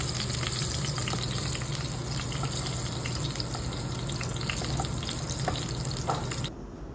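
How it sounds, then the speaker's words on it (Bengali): Four potato pieces coated with salt and turmeric fry in hot oil in a pan, giving a steady crackling sizzle throughout that cuts off abruptly near the end. "আলুটাকে ভালো করে নুন হলুদ মাখিয়ে ভেজে নেব"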